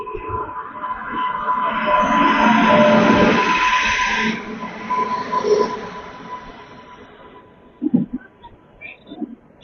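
A WAP7-hauled passenger express, the Tanakpur Daurai Express, rolls along platform 5 at Bareilly Junction with a broad rumbling roar and faint wheel squeal that fades, followed by scattered clunks and platform noise.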